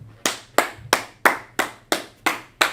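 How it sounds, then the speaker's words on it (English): Slow, evenly spaced hand claps, eight crisp strikes about a third of a second apart, each one sharp and close with a short decay. A faint low hum sits underneath. "Let's clap it up for her."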